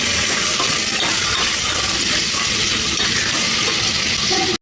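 Vegetables with turmeric and coriander for hotel-style sambar are stirred in a hot pan, producing a loud, continuous sizzling hiss with rough stirring scrapes throughout and no talk.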